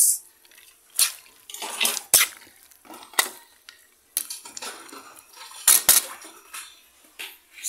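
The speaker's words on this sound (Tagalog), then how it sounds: "Tinutulungan ako maghugas" Dishes are washed under running water, with intermittent clinks of plates and cutlery and bursts of splashing over a faint background, no talking.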